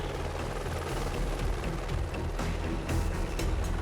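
A police helicopter hovers during a mudslide rescue over a swelling torrent, its steady, loud rotor roar filling the scene without pause.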